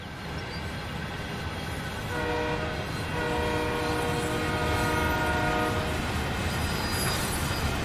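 A freight train in the Sherman Hill train simulator game shoves backward into a siding. A steady, loud rumble of rolling cars runs under sustained horn-like tonal chords that swell partway through, with no voices.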